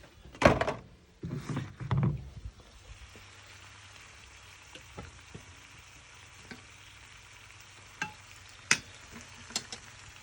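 Fish and eggs fry in a pan. A few loud clattering knocks and scrapes come first, then a soft, steady sizzle with occasional sharp clicks.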